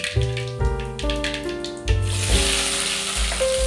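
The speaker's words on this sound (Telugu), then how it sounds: "ఆయిల్ బాగా హీట్ అయిన తర్వాత జీలకర్ర ఆవాలు వేస్తున్నాను" Cumin and mustard seeds hit well-heated oil, a steady bright sizzle that swells after the first couple of seconds and continues under tonal background music.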